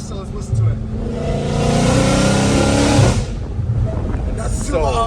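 A Dodge Challenger Hellcat Redeye with catless exhaust pipes revs hard and accelerates in third gear with a rising, rumbling exhaust roar, then drops away as people speak faintly nearby.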